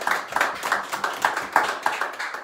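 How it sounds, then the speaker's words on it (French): A church congregation claps in unison, a steady rhythm of sharp hand claps, moderately loud and close, with a faint murmur of voices beneath. "Acclamons très fort pour le Seigneur."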